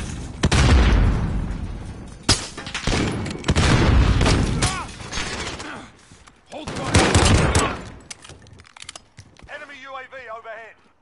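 A new weapon fires in Call of Duty Modern Warfare: loud, close bursts of rapid gunfire come in three main volleys with short gaps, mixed with a player's excited talking, then fading into quieter game sounds.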